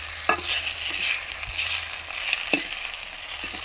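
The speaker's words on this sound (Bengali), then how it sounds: "অল্প অল্প তেল দিয়ে মাছ ভাজা করছি" Fish frying in a little oil gives a steady, fairly quiet sizzle, broken by a few sharp clicks and scrapes from stirring. No one speaks.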